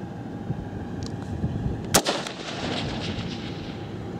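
A single rifle shot fired through a Primary Arms ACSS scope, one sharp crack followed by a short echo, over steady outdoor background noise.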